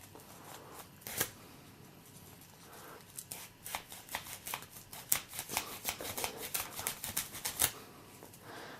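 A Quartermaster QTR4 knife saws back and forth through material, producing quiet, uneven scraping strokes that come faster and denser toward the middle of the passage.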